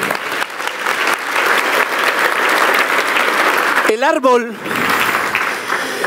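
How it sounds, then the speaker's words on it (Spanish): A church congregation gives loud, sustained applause from many hands, briefly punctuated by a voice calling out mid-way, then the clapping continues. "¿Le das otro aplauso a Jesús?"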